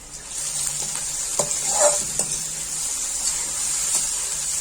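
Garlic paste frying with onions and okra in a pan gives a steady close hiss and sizzle, broken by a few soft clinks and scrapes from stirring.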